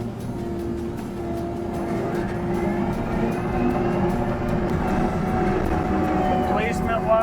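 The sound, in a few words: Kubota skid steer with pallet fork grapple running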